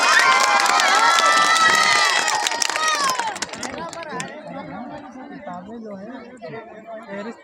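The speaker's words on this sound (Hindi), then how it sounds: "एक बार जोरदार तालियां इस बच्चे के लिए" A crowd at a Republic Day awards ceremony claps and cheers for a child, loud at first and then fading into chatter and voices.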